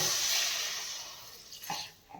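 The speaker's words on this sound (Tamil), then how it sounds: "தண்ணி ஊற்றிக்குவோம் லைட்டாக ஹெவியாக வேண்டாம் கொஞ்சமாக" Water poured into chicken cooking in a pan makes a soft, steady splashing hiss that gradually fades, followed by a few faint gurgles and sizzles near the end.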